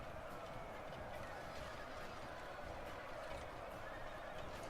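In the video game Total War: Shogun 2, distant horses whinny amid a dense, steady din of battle, with hoofbeats and clatter blending into a continuous roar.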